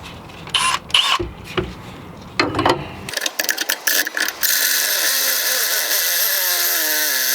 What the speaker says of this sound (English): I'm going to try to use a step bit to ream this out